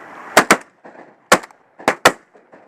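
Shotgun blasts fired during a duck hunt ring out in close pairs, two quick loud shots, then a single shot, then another sharp pair, each with a short outdoor echo and no voices.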